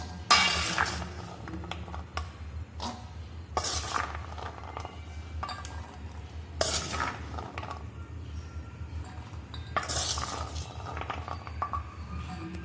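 Turmeric-and-salt-coated corn kernels are tipped into a metal cooking pot. Bursts of rattling and clinking come in waves every few seconds, close and moderately loud, over a low background hum.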